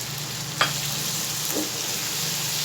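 Coriander, crushed red chili and spices fry in oil in a pan with a constant close sizzle, broken by a sharp stir or clink and a softer scrape.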